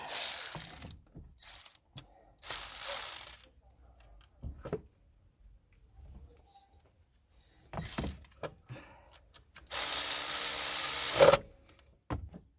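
A ratchet wrench clicks in several quick bursts while tightening a 13mm nut on the alternator of a VW van, close and crisp, separated by pauses.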